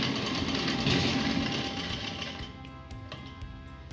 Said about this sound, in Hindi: इसको यहाँ से यहाँ सिलाई लगा देंगे